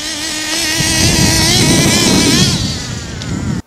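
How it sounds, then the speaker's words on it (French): A small nitro engine in a radio-controlled car revs hard during break-in with a rich carburetor setting, a loud, buzzing high-pitched whine holding steady, then dropping slightly near the end, with no voices. "à fond aussi souvent que nécessaire pour relancer le moteur"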